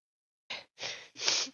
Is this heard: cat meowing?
no